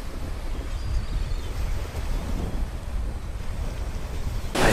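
Strong wind buffets the microphone on a Sardinian beach, a steady close roar and rumble that swells into a louder gust at the very end, with no voices.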